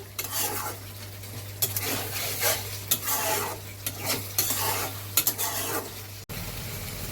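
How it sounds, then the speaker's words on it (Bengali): Food sizzles and hisses in a hot pan over high heat while a utensil scrapes and clinks against the metal in quick, irregular strokes, close by, as a hilsa fish dish is stir-fried. "আঁচ বাড়িয়ে এবার আমি কষে নিচ্ছি।"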